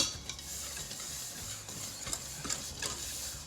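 A whisk stirs sugar and cornstarch together in a pie pan or bowl, giving soft, steady scraping with a few light ticks against the container, close and quiet, with no voices.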